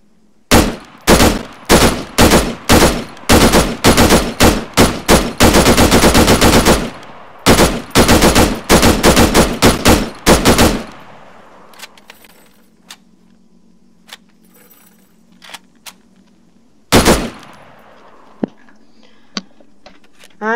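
Loud, close rifle fire from a shooter game mod with Israel Defense Forces and Middle East opposing-force weapons. It starts as rapid bursts and strings of single shots, then stops, followed by faint clinks and one later isolated shot.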